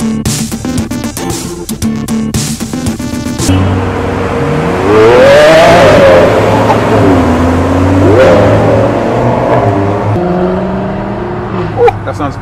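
A Lamborghini Aventador Miura revs close by, its engine pitch climbing and falling in two strong sweeps over a steady loud idle.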